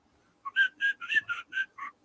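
A person whistles a short tune of about seven distinct notes in a bouncy rhythm, close and clear against near silence.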